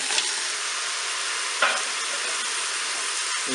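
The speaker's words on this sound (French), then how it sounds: "on essaye de dorer bien notre filet mignon sur toutes ses faces" Filet mignon browning in a Cookeo multicooker, giving a steady, close hissing sizzle throughout with a couple of brief stirring scrapes and clatters, no talking.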